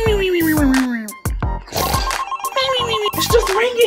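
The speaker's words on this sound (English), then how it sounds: "It's just ringing. He's not even answering." A phone ringback tone repeats steadily beneath excited children's voices talking and exclaiming over it.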